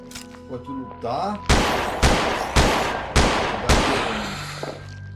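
A shooter video game trailer lets loose six heavy, booming gunshots at a regular, evenly spaced rhythm, loud and close. Softer tonal game sounds come before the shooting.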